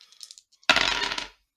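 Dice tossed during a tabletop roleplaying game: a light rattle and clatter across a hard surface, a short burst that fades within about a second after some small taps.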